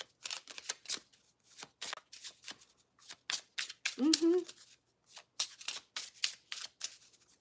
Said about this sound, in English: So comfortable to shuffle.